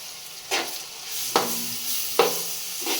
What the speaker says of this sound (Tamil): இப்போ மேலேயே இஞ்சி பூண்டும் போடுறேன், ஏன்னா வாசனை போகணும். அதனால் 75 கிராம் இஞ்சி, 75 கிராம் பூண்டு எல்லாம் சேர்ந்து ஒன்றா வதங்கட்டும்.